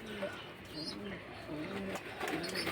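Young pigeons coo softly while bathing in water, making low, repeated throaty coos in short bursts, faint and close.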